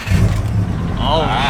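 A Subaru WRX GR-spec with over 400 horsepower fires up and settles into a loud, throbbing idle close by, its deep engine rumble running under excited voices talking over it.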